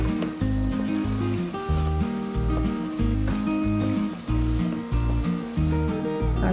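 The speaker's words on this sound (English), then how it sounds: "So I'll keep frying and stirring this for just a few minutes on medium heat." Food fries and is stirred in a pan over medium heat, crayfish among the ingredients, with a continuous sizzle overlaid by music whose rhythmic pulse dominates throughout.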